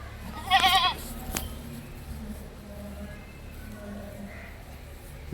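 A young male goat kid gives one loud, wavering bleat close by, followed by a shorter cry and faint farmyard noise.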